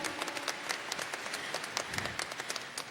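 Applause from the audience at a solemn medal ceremony, the Pedro II Director Medal award, with crisp individual claps standing out from a fairly steady crowd clapping throughout.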